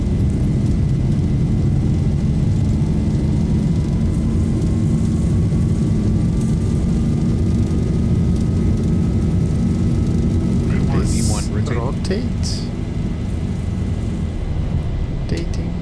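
Boeing 737-800 jet engines spooling to takeoff thrust in the X-Plane 11 flight simulator, a steady loud broadband roar with a faint rising whine throughout, brief chirps near the end.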